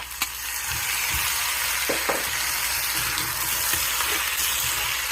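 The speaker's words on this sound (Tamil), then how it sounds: "இப்போ வெங்காயம் வதங்கிடுச்சு. உருளைக்கிழங்கு போடலாம்." Onions and potatoes sauté in a pan with a constant, even sizzle. A few soft knocks of a spoon or spatula sound under it, close up and without any talking.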